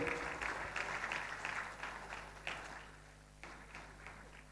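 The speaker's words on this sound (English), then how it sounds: "Please, can we have some applause?" Audience applause at the BCC&I Shiromoni Entrepreneurship Excellence Awards ceremony at Hotel Taj City Centre, a fairly soft, steady clatter of many hands that swells in a few bursts and fades slightly toward the end.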